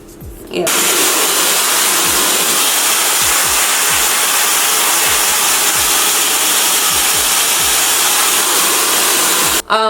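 A hair dryer blows steadily and loudly for nearly the whole stretch while hair is being blown out during a silk press, starting abruptly after a brief quiet moment and cutting off at the very end.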